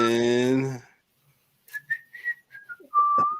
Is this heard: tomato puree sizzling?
no